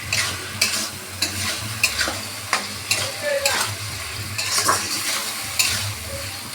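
Spices with salt and turmeric fry in a pan for a pangas fish curry, a moderate sizzle under irregular scraping stir strokes and occasional utensil knocks against the pan, fairly quiet and with no talking.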